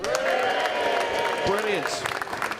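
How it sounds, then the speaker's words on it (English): Studio audience applause for a women's football team's cup win, a steady wash of clapping throughout with a voice talking over it. "Keep the applause going, because the women won a game"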